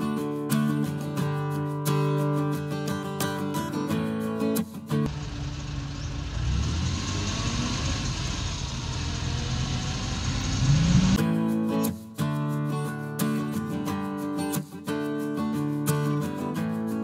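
A learner driver's car engine pulls away as the clutch comes up: a steady mid-pitched engine drone with a hiss for several seconds, with music playing before and after it.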